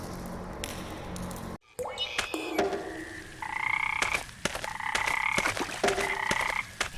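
Cartoonish frogs croak by a lake in the adventure game Memoranda, a steady chorus of layered, tonal croaks mixed with taps and squishy clicks, fairly close and continuous.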